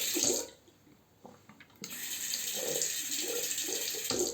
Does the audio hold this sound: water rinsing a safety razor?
yes